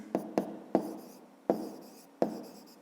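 A pen writes out a math solution on paper, making five sharp taps, each trailing into a soft scratch, close and quiet.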